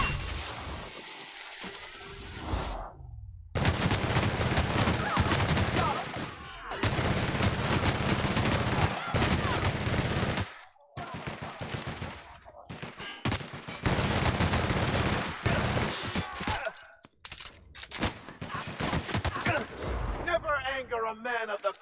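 Gunfire bursts from The Outer Worlds, including shotgun blasts, come in loud clustered volleys separated by short gaps, with some talk mixed in.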